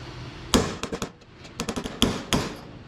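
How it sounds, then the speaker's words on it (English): Hammer blows on a punch driving rivets out of a timpani, sharp metallic strikes in irregular clusters, some single heavy hits and some quick runs of lighter taps, close and loud with no talking. "Now I'm gonna use a punch to push these all the way through."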